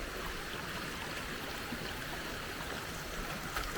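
River water runs over rocks near Hin Lad Waterfall on Koh Samui, Thailand, making a steady, close rushing hiss that stays even from start to finish with no voices.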